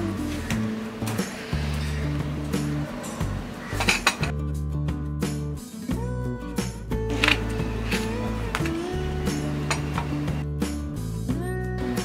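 A knife cutting pointed gourd (parwal) down the middle on a board, heard as a series of close knocks and clinks of utensils over a steady tonal background hum.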